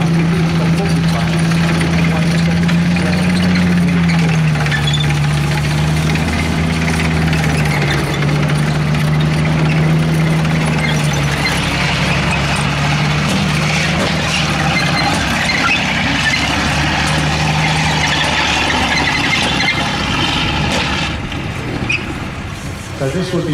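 A Sherman V (M4A4) tank's multi-bank engine runs with a loud, continuous low rumble and grinding mechanical clatter, close by, with voices talking over it.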